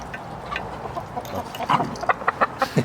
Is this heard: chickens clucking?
yes